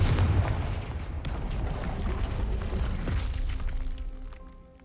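Confringo fire spell explodes in Hogwarts Legacy, a loud booming blast with a burst at the start and a second sharp crack partway through, followed by rumbling debris and a lingering tonal hum.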